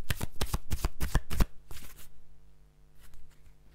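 A major arcana-only Kitchen Tarot deck is shuffled up close, a loud rapid riffle of card flicks followed by a softer brief shuffle and quiet handling.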